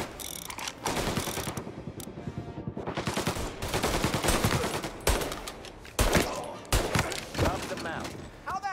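Gunfire in the video game Mafia Definitive Edition, bursts of rapid close shots and automatic fire with mechanical clatter, dense and loud across the clip, with a voice talking between volleys.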